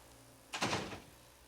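A door in an office closes with a single short thud and a brief rattle partway through, moderately loud against a quiet room and followed by silence.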